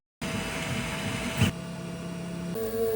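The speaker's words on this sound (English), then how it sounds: "I'm gonna send this file to the 3D printer." A 3D printer runs while printing a threaded container, giving a steady whirring motor hum with shifting tones and a brief knock partway through, fairly quiet and without talk.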